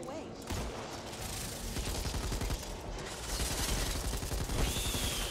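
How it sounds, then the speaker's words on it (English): Rapid sustained bursts of an M249 machine gun in the zombie shooter Back 4 Blood, loud and dense with gunfire, growing heavier toward the end, mixed with other game effects. "Look at how fucking powerful this M249 is."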